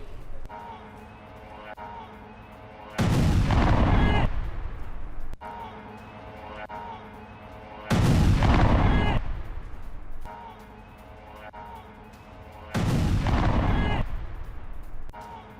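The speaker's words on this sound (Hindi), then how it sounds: "बहरीन के मनामा में अमेरिकी बेस में विस्फोट, ड्रोन हमले से दहला अमेरिकी सैन्य बेस।" Three heavy blasts from a drone attack on a US military base in Manama, Bahrain, each a loud broadband boom lasting a couple of seconds and rolling off, separated by stretches of lower rumbling background noise.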